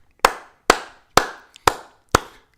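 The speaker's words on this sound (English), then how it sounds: "let me clap it up for y'all, man" Five sharp, loud hand claps from one person, spaced evenly about half a second apart, each a crisp close slap with a quick decaying tail and near silence between them.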